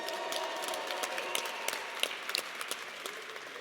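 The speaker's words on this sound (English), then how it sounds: "He wants to give tennis, who won the HBCU national title, a round of applause." A crowd at a university football coach introduction event gives a round of applause, a steady wash of many hands clapping at moderate distance, with a few sharper close claps, and no talking.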